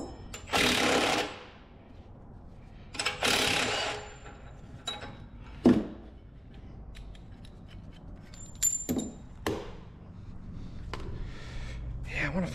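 Power tool removing bolts from a Tesla during repairs, several separate loud whirring bursts of an impact driver or ratchet with quiet pauses between them, plus a few short metallic clicks.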